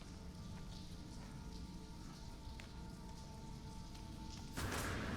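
Steady rain patters down in No Man's Sky, a dense continuous hiss with faint tonal hums from the game underneath, then a sudden louder burst of noise near the end.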